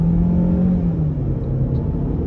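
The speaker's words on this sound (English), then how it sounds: "we'll try an acceleration off the line right here" A 2022 Chevy Equinox LT turbocharged engine roars steadily as it pulls away from a standstill under hard acceleration, a loud continuous rumble with a faint whine above it.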